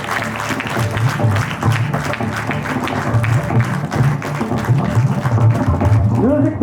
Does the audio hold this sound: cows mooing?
no